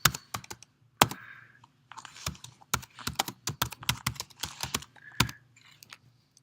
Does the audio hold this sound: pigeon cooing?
no